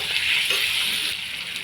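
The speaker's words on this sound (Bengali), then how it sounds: "আমি এটার মধ্যে পনিরটা দিয়ে আরেকটু কষিয়ে নেব" Paneer being sautéed in thick spiced gravy in a pan, a bright, even sizzling hiss that holds close and steady, then eases slightly near the end, no voices.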